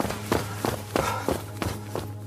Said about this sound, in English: heard footsteps running towards us